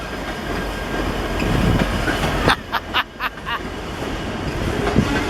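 A Norfolk and Western freight train of covered hoppers rolls past nearby, a steady rumble of cars with a burst of clicking wheel joints midway and faint wheel squeal, no talk.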